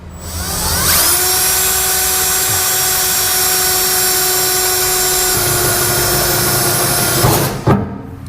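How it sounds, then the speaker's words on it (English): A power drill spins a 3/4 inch hole saw with pilot bit through the steel bed of a Ram 2500 pickup during an underbed gooseneck hitch install, a loud steady grinding whine for about six seconds before cutting off abruptly. "Now we'll take a 3/4 inch hole saw with our pilot bit, and we'll use that hole as a guide"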